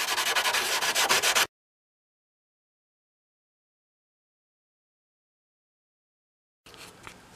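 Rapid back-and-forth sanding to roughen a carbon fiber repair on a Ninja motorcycle fairing, a rough scratchy rasp close to the mic, then silence before the scraping briefly resumes at the end.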